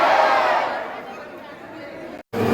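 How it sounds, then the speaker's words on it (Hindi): A large crowd at the Buddhagiri Madhi fair in Fatehpur Shekhawati chants and roars in unison, loud, dense and close, with a brief dropout before it resumes. "जयकारों से गूंज रहा है बुद्धगिरी मंडी।"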